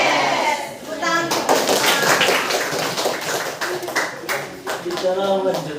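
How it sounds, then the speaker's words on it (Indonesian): Children clapping their hands together in a group at a conservation education session in Siberut National Park, a few seconds of lively, irregular claps under excited young voices and chatter. "Tepuk tangan."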